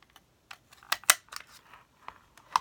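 A handheld paper punch cuts a scalloped edge on a Valentine lollipop holder craft, heard as a quick series of close, crisp clicks and snips, irregular in spacing, with quiet moments between.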